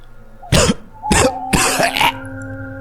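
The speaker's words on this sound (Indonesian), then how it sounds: "Suara batuk dan muntah ayah." A father has a coughing and vomiting fit, giving four harsh, forceful bursts spaced about half a second apart, close and loud, with a faint hum lingering underneath.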